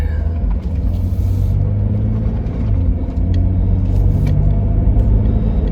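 A 2004 Jeep Grand Cherokee on a test drive after fuel leak and chattering brake repairs, its engine and road rumble droning loud and steady from inside the cabin throughout.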